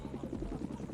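A helicopter in the video game Oil Warfare Tycoon, its rotor thumping in a steady rapid pulse over an engine drone, loud and close with no talk over it.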